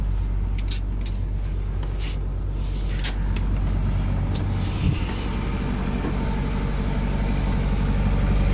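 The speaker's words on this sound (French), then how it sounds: "La lougotte, le boucan du moteur." A boat's engine runs noisily with heavy vibration, a steady close low rumble with a faint clunk midway and no voices, aboard a vessel with a propeller problem.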